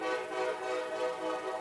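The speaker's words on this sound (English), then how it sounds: "I'll say the train that's passing through is actually small." A short four-car train passes beyond deep left field of a college baseball field, its horn sounding a loud, sustained, steady blast across the whole moment.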